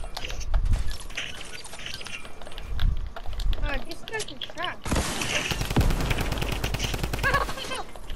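Video game gunfire rattles in rapid automatic bursts, starting sporadic and building to a dense, sustained stream of shots near the end, with someone talking over it.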